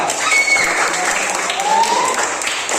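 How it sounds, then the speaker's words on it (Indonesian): Classroom applause for a student, a steady wash of clapping from a group of children, loud and close, with voices calling out underneath. "Ya, tepuk tangan untuk Rido."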